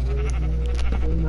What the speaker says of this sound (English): Coby, the sheep's loving you.